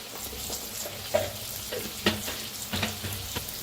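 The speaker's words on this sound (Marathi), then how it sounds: "मिरच्या लसूण दोन्ही बी आणि छान असं भाजायचं" Green chillies and garlic roast in a pan with a soft, steady sizzle, punctuated by several scraping stirs at fairly regular intervals, heard up close and fairly quiet.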